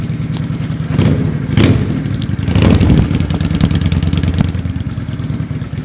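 A motorcycle with a direct-pipe exhaust idles close by with a deep, steady burble, swelling briefly in a few soft throttle blips over a continuous low rumble, no voices.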